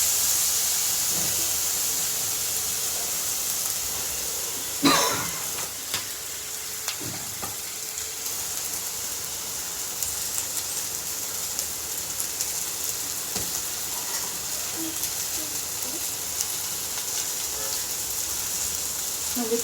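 Ginger fries in a pan for an Erode-style chicken dish, giving a continuous bright sizzle throughout, with an occasional clink of a utensil stirring.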